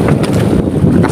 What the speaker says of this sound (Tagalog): Galing Negros yung hangin mga kabads.